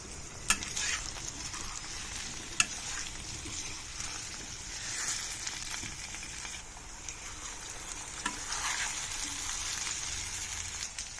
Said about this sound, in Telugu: వంకాయలకి ఘాట్లు పెట్టాం కదా, తొందరగా ఫ్రై అవుతాయి